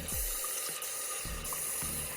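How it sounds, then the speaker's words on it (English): Tap water runs steadily into a cooking pot for boiling potatoes in a home kitchen, a continuous close rushing wash with faint gurgling changes as the pot fills, no talking. "you're gonna fill the pot with some water to boil the potatoes"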